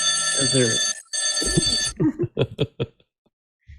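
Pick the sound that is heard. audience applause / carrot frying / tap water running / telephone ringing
telephone ringing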